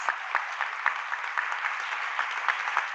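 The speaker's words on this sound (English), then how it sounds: "please, a final round of applause for our incredible debaters" Sustained audience applause closing a high-level debate event on climate skills, with dense, steady clapping and a few louder bursts throughout, heard close and alone with no talk over it.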